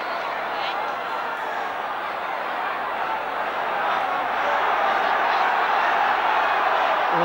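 Stadium crowd at a 1982 rugby league match between Hull FC and Australia at the Boulevard, a steady broad roar of voices that swells slightly toward the end, continuous and fairly loud throughout.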